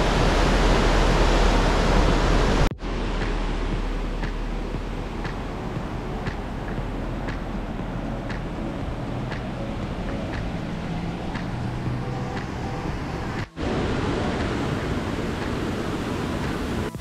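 A steady rush of a flowing stream fills the scene in Ketchikan, Alaska, with faint, evenly spaced footsteps tapping along beneath it.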